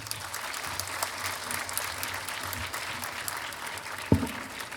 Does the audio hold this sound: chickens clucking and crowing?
no